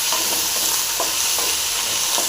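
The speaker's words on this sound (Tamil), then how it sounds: "கொத்தமல்லி கருவேப்பிலை தக்காளியும் போட்டாச்சு இதே சேர்த்து நல்லா ஃப்ரை பண்ணிக்கலாம்" Tomatoes, coriander and curry leaves fry in a pan for a chutney, giving a steady loud sizzle with a few soft scrapes of stirring.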